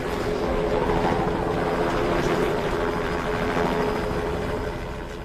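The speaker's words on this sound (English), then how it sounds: "The helicopter's drowning out Mike and I yelling." Helicopter flying in thick low visibility inside a volcano, a dense continuous rotor and engine roar that holds steady for several seconds and eases slightly at the end.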